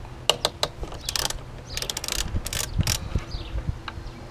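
A ratchet loosens the large brake caliper bolts on a Zontes 350 GK motorcycle, giving close, quiet bursts of rapid clicking with short pauses and a few metallic knocks, no voices.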